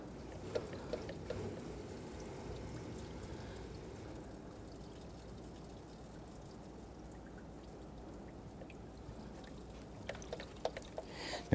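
Coolant trickles and pours from a Toyota Camry 2.2L four-cylinder water pump housing into a catch can, a faint steady dribble with a few small clinks and knocks near the end, no talk.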